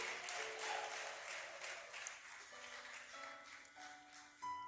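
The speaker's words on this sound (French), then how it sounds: "Est-ce qu'on peut applaudir pour Josué" Applause from a talent show audience at a Maajabu Talent acoustic elimination night, fairly faint and distant, with soft sustained tones running beneath it.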